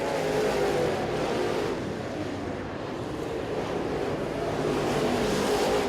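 Race cars roar around a dirt track during a feature event at the Cochran Clash, a steady loud engine drone with rushing, wind-like noise and no speech.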